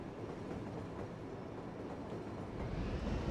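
A video-game train rumbles along steadily, a dense low roar of wheels and carriages that swells slightly toward the end, fairly faint and continuous.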